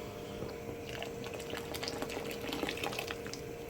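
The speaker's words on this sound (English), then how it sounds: "I'm going to add a bit more water." Water pours steadily into a pot of haleem, a continuous splashing, bubbling rush that holds at an even level throughout.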